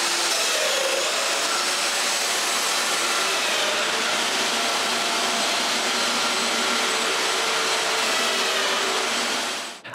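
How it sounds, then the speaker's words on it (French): A domino joiner plunges into wood to cut mortises for loose-tenon joints on a folding outdoor workbench. The motor whines loudly and steadily near the microphone for the whole stretch, grinding through the cut before cutting off abruptly at the end, with no speech. "c'est le temps de percer des mortaises"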